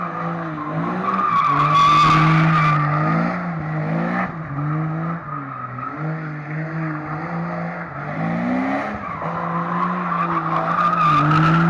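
A Jeep Cherokee XJ drifting, with loud, continuous tire squeal rising and falling in pitch over a revving engine, close and sustained throughout.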